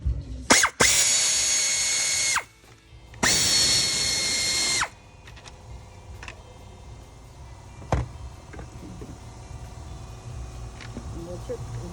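A power tool removes 10mm bolts from the engine intake of a Ford Edge in two loud, close whirring bursts of about two seconds each, followed by quieter clicks and rattles of parts.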